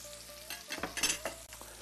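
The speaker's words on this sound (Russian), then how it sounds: "рыбу до спины хорошо обжарим. А потихонка обжариваются наши овощи." Trout and vegetables frying in a pan, a quiet close sizzle with quick stirring scrapes and light utensil clatter in a short burst.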